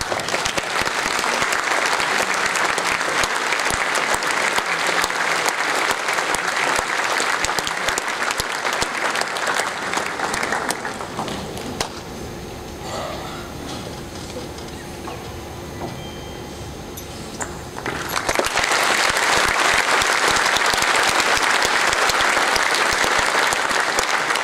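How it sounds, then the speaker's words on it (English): An audience applauds after an Indian Navy band performance, loud sustained clapping that eases to a lower, thinner level midway and then swells back to full strength for the final stretch. "Big round of applause, everybody."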